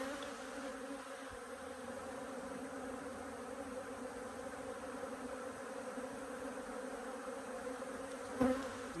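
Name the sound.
Buckfast honey bees buzzing around an open hive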